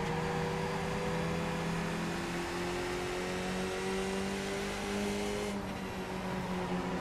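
Skip Barber race car engine in the iRacing video game at Okayama, a constant loud droning engine note at steady revs throughout with a slight pitch rise and no voices.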